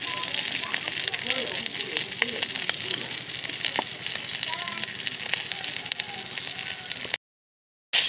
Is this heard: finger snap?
no